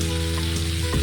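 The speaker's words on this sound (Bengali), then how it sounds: "আলুটাকে দিয়েও একটু ভেজে নেব।" Potato and bitter gourd pieces fry with turmeric in a pan, giving a steady, close sizzle over a low hum during one brief second.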